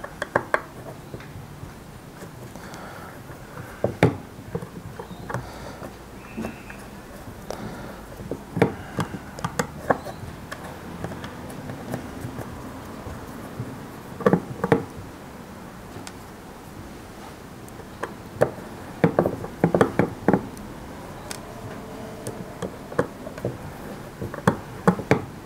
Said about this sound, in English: So I'm just going to pop this whole assembly off.